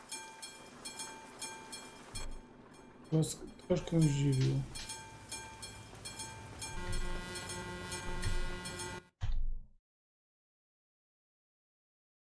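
A train rolls past in the truck-driving game Euro Truck Simulator 2: a steady rail rumble with tonal swells while someone talks over it, then it cuts off abruptly into silence.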